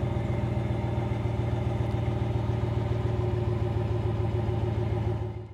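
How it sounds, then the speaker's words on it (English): A 2016 Ram Rebel 1500 pickup idles with a steady, smooth, deep exhaust rumble through chrome exhaust tips, close and continuous, easing off slightly at the very end. "a really good smooth rumble with the chrome exhaust tips back here"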